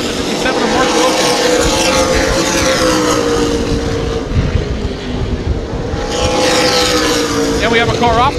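Stock race cars roar past on the oval at New Smyrna Beach, Florida, engines loud and sustained with rising and falling passes and a blurred, droning texture.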